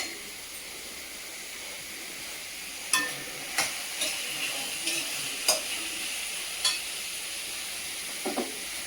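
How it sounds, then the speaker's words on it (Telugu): Onions frying in a pan in a home kitchen: a soft, continuous sizzle with a string of sharp clinks and scrapes from stirring at irregular intervals, without talk. "ఉల్లిపాయలు ఫ్రై అవుతూ ఉంటాయి"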